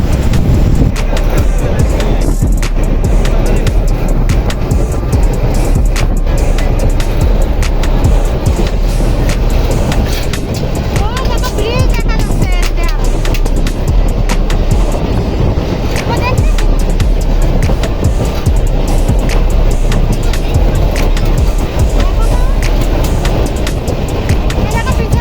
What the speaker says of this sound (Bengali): আমাদের ট্রেন জার্নি ছুটে চলেছে মংলার উদ্দেশ্যে